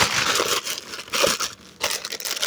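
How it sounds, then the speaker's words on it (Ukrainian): An AliExpress plastic package is torn open with continuous crinkling and rustling of the plastic, close and fairly loud, pausing briefly before the crackle resumes. "Відкриваємо цей пакет."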